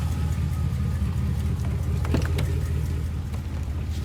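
A 6.0 engine in a 2004 Chevrolet Silverado 2500 idles, with a steady low rumble held at a constant close level and a few brief clicks partway through.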